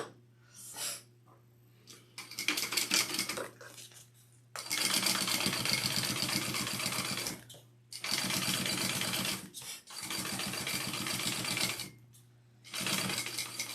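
A sewing machine top-stitches across a bag's slip pocket in several bursts of rapid, rhythmic needle clatter, separated by short pauses, close and steady against a low background hum.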